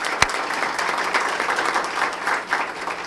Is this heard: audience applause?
yes